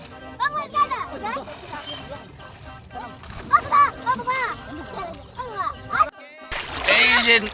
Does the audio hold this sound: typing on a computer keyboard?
no